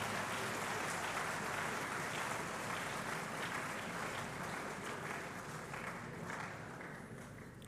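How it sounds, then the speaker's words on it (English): Sustained applause from a crowd at an anniversary celebration, a dense, even wash of many hands clapping at a distance that slowly fades toward the end. "I need applause from the crowd"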